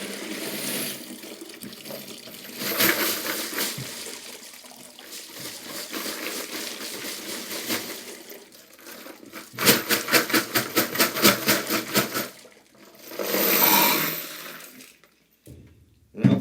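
Water from a brass cleaning tumbler dumped into a sink while reloading fired brass: sloshing, gurgling pours in several surges, with a rhythmic glugging stretch, loud and close, no talk.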